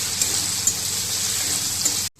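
Ginger-garlic paste fries with onions and tempering spices in a pan for a Hyderabadi-style soybean dish. A loud, even, close-up sizzle runs unbroken until it cuts off abruptly at the end.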